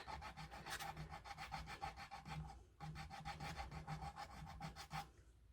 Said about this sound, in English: I just lay my sandpaper down and I run it over.